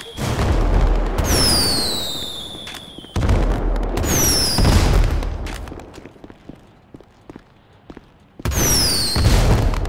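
Fireworks burst in a video game with loud booming explosions and whistling trails in three separate volleys, each followed by crackling, and a quieter lull between the second and third.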